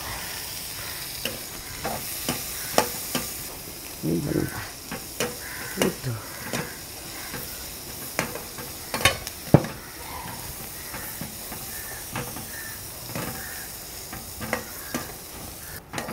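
Coconut for onion kurma fries in a pan and is stirred repeatedly, with a steady hiss and sizzle broken by many irregular scrapes and clacks of the spoon against the pan.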